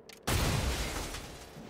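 A single loud cannon blast explodes after a brief quiet moment in the X-COM: Chimera Squad video game, then a dense roar that slowly fades.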